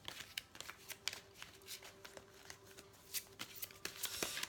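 Oracle cards for a tarot-style reading are shuffled and drawn in a quiet room, producing faint, close, rapid riffling and flicking bursts that come in irregular clusters, with no voices.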